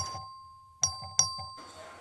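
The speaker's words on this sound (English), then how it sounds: "The clerk will ring the bell." Two bright bell dings ring out, evenly spaced, as the clerk sounds the voting bell in a legislative chamber, with faint room murmur around them.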